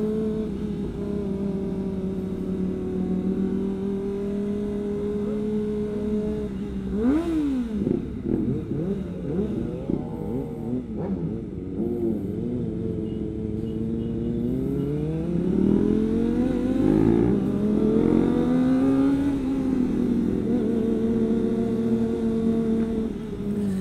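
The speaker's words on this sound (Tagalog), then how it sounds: "Ang iigay ng mga motor namin, paano di kami pagtitinginan." Loud sport motorcycle engines, including a ZX-4R, Z900, RC 390, GSX-S1000F and R6, rev continuously, rising and falling in pitch, with a surge of throttle near the end; no talking.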